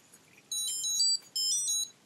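A eufy Smart Track Link tracker beeps with two sustained high electronic tones in quick succession, each about half a second long, close by and clear against a quiet room.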